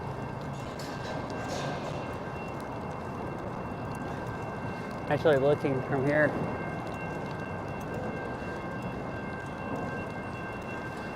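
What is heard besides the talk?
train sitting on a nearby train track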